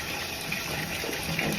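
Tap water runs steadily into a sink as a curly wig is wetted, a continuous broadband splash close by with no talk.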